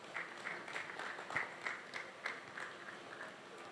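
Audience applause at a conference stage event on Africa's gig economy, a soft, steady patter of many hands clapping heard from a distance, fairly faint and without speech.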